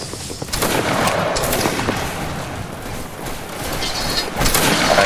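Musket volleys crackle in a Napoleonic line battle video game, Saxon fusiliers firing in dense ragged bursts, loud and continuous, some shots close and others farther off, with little talk.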